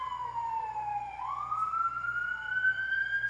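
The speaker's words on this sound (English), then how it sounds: "Siren's still going, getting louder." A siren wails nearby, its pitch dipping and then rising again in a slow sweep over a steady low hum, with no voices.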